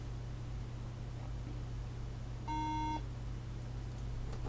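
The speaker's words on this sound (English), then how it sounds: "There you go, there's a beep for RAM." A 17-inch early 2011 MacBook Pro gives a single short electronic tone signalling a RAM fault, about half a second long and clear above a low mains hum and faint background hiss.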